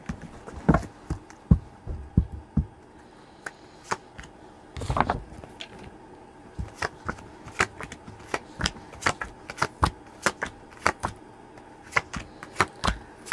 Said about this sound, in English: I'll do a little cut of the deck now.